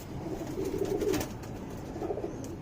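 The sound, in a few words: pigeon cooing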